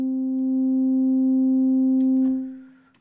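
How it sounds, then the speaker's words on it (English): A Xils 4 software synthesizer holds a steady, pure, low tone whose level swells gently as the sustain knob turns, then drops away with a brief click and faint residue, no voices present. "if I turn the sustain knob, you can hear the sound get louder and quieter"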